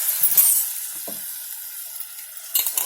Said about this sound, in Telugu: ఇప్పుడు క్యాబేజ్ వేసేస్తాం.